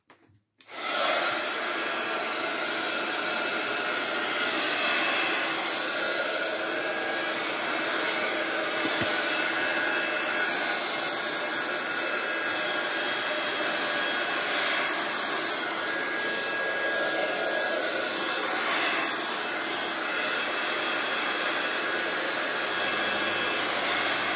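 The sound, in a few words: heat gun drying painted Easter eggs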